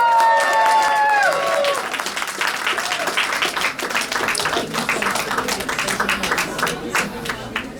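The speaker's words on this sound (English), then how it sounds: "A hand of applause for Gail Brewer." Crowd at an anniversary gala giving an award recipient a round of applause, many hands clapping steadily and loudly throughout, following a short burst of a voice at the start.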